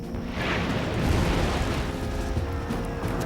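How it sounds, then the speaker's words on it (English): Deep rolling booms and crackling bursts of grenades and other combustibles blaze continuously, reverberating as if through nearby woods during an eighteenth-century battle, loud and dense without any clear pauses. "the bursting of the grenades, the crackling of other combustibles, all which reverberated in the air in the adjacent woods."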